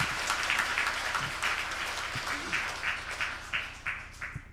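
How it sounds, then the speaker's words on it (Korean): Congregation applause in a Korean church Sunday service after a choir anthem, a moderately loud, steady patter of many hands clapping across the hall with no talk over it. "박수 한번 하겠습니다."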